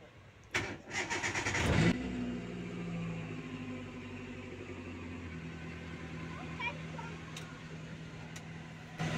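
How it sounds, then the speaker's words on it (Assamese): A Hyundai Santro Xing car engine cranks with a rapid stuttering starter whine, catches, then settles into a steady close idle that runs on for several seconds, with faint background noise. "আৰু গাড়ীখন এবাৰ ষ্টাৰ্ট কৰি দেখুৱাই দিওঁ,"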